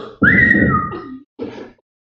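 A man whistles in imitation of a friend's signature whistle: one long rising then sliding note, a short pause, then a brief second burst, close and clear.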